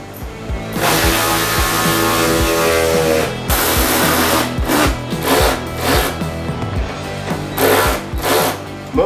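A power drill whirs in repeated bursts with short pauses between them, drilling out bolt holes on a Porsche 996 Turbo, loud and close.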